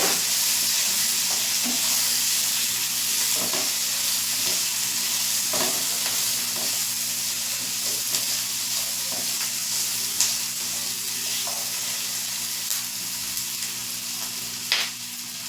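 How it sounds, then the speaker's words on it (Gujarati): Onion, garlic and chopped tomato sauté in a pan for a restaurant-style matar paneer gravy, giving a steady, close sizzle with intermittent stirring clicks and scrapes of a spoon, no voices. "ડુંગળી અને લસણ થોડું સતડાશે એટલે હું અહીંયા એક નામ ટામેટું છે તે એડ કરીશ"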